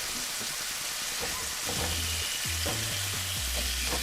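Red lechwe backstrap sizzles steadily in a hot pan as butter is spooned over it, a dense close frying hiss with occasional metallic clinks of a utensil against the pan.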